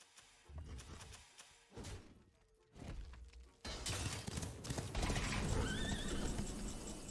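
Horse whinnies from demonic and undead horse cards in the Hearthstone video game, a loud neigh with trailing pitch near the end, amid layered game effects, thuds and clip-clop hoofbeats, with no talk.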